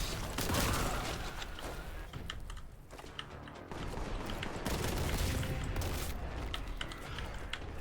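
Bolt gun and autogun fire in the Warhammer 40K: Boltgun video game, a dense, continuous crackle of rapid shots and mechanical clatter that runs unbroken from start to finish.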